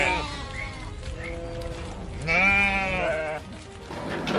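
Several sheep bleat on open New Zealand grazing land, a few short calls followed by a louder, longer bleat near the middle and another toward the end, under steady outdoor background noise.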